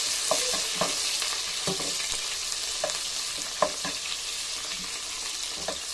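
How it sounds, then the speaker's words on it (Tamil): Onions sautéing in a pan for a Chettinad crab curry, a steady broadband sizzle with scattered scraping stir strokes and light clicks of a spoon, close and moderately loud, no talking. "வெங்காயம் சேர்த்துட்டு வதக்கிக்கலாம்"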